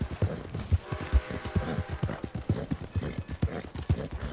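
Horse hooves clip-clop steadily in the Red Dead Redemption 2 video game, an even trotting rhythm of close, distinct thuds over a low game background, with no talk.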